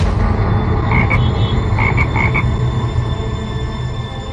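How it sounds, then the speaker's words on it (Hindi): Frogs croak in short repeated bursts over a steady, loud background hum, the croaks coming in a quick cluster of four or five. "रेडियो एक्टिव मधुमक्खा जो मेंढक की आवाज निकालता है।"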